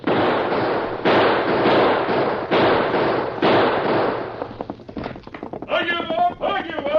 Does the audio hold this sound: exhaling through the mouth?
no